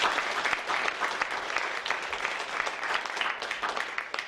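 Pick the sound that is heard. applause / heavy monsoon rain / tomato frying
applause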